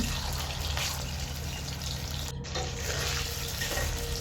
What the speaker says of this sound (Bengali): এখন এটিকে আমি ডিপ ফ্রাই করে নিচ্ছি